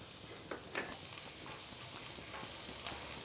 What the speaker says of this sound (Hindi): तो ज़ीरा फ्राई हो गया है तो लहसुन डाल देना है।